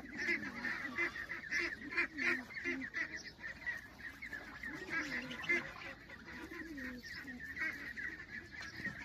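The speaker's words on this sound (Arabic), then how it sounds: "هذا الوز اللي هو وز البط" A flock of domestic geese raised alongside ducks honks continuously at close range, overlapping nasal calls rising and falling in a busy, noisy chorus with no talk over it.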